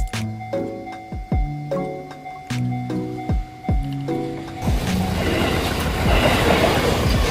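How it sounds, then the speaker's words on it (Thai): A rail tour train rolls through the zoo at a crocodile farm in Samut Prakan, Thailand, with loud rhythmic wheel clacks and ringing metallic squeals, then a steady, noisier rumbling roar as it passes close by. "หากใครไม่อยากเดินชมโซนสวนสัตว์เขามีบริการนั่งรถไฟรางด้วยนะคะ"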